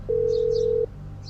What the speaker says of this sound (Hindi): 30-40 सेकंड तक रिंग बजती रही।